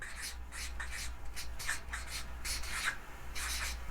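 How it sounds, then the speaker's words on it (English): Pen or pencil writing on paper close up, soft scratchy strokes in short bursts with brief pauses between words, steady and quiet over a low background hum. "So we're going to write down an example."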